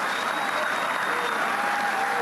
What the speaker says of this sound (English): Your people will clap bloody anything, won't they?